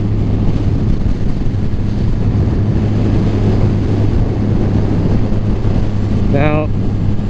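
A 2020 Triumph Rocket 3 R motorcycle rides through winding curves, its engine a loud, steady drone layered with wind rush throughout, and a short tonal chirp near the end.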